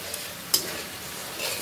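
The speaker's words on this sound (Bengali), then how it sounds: "দেখো, মশলাটা কষানো হচ্ছে" Spice paste sizzling and being stirred in a pan while cooking a thin shing (stinging catfish) curry, a steady close fry with a sharp scrape of the spatula partway through, no talking.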